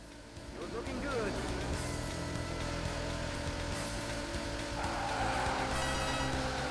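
Arcade racer Daytona USA with a car drifting, tires squealing steadily over a constant engine roar, a sharper screech rising near the end, loud and continuous throughout.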